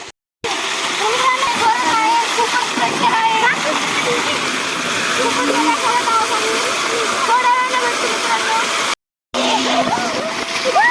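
People swimming in a farm water tank, with continuous loud splashing and churning water close by, broken by two brief gaps, while voices talk and call out over it.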